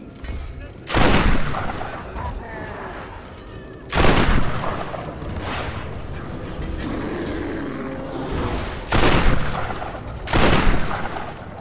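Gunfire bursts in the Tomb Raider video game, several loud volleys spaced a few seconds apart with lighter shots and game noise between them.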